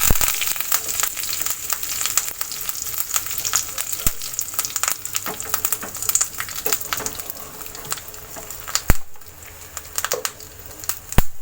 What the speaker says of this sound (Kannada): ಈಗ ಸಾಸಿವೆ ಪಟ ಪಟ ಆಯಿತು. ಕರಿಬೇವು ಹಾಕ್ತೇನೆ.